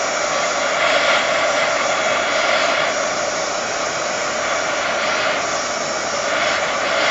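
A craft heat tool blows steadily to heat set stamped ink on a card, a close, even, loud airy roar that holds without pause and with no talking.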